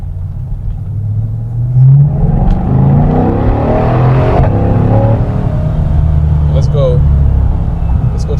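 A Chevrolet C8 Corvette accelerates at night, its engine note rising in pitch through a steady rumbling pull, heard from inside the cabin under continuous talk.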